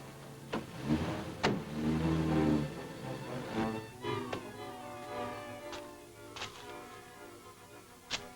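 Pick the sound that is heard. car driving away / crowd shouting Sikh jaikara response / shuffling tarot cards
car driving away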